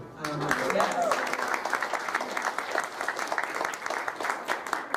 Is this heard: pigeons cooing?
no